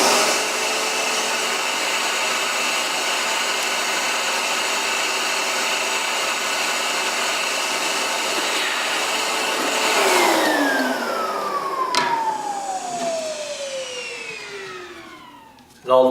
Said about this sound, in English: And are easily cleaned with the vacuum.